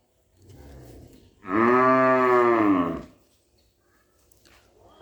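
Brahman cattle at an agro farm: one loud, sustained moo lasting about a second and a half, preceded by a softer low grunt, with quiet surroundings.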